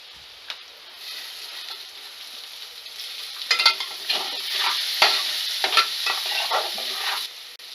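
A spoon stirs chopped onion and tomato frying in a pan for Kolhapuri kanda poha, with soft sizzling and a run of scraping, clattering strokes in the middle, close by and without speech.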